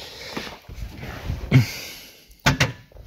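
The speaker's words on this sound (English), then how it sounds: "Hear the contactors click in." Electric contactors in a Land Rover fitted with Tesla Model 3 parts click in as the car is switched on, giving a few sharp, close mechanical clunks, with a final double click standing out after quieter handling sounds.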